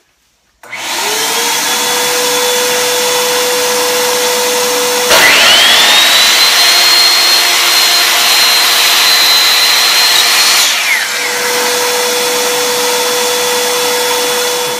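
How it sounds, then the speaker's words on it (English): A shop vacuum starts and drones steadily throughout. A power saw cuts wood at a 45-degree angle over it, a higher whine rising midway and stopping several seconds later while the vacuum keeps roaring. "So I'm going to turn on the vacuum so I get some dust control going on here"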